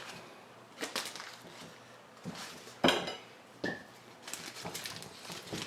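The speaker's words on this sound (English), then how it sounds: "chop up some roll butter" A knife chops a big chunk of roll butter on a kitchen surface, giving a few sharp, irregular knocks and clatters close by, with quiet gaps between cuts and no talking.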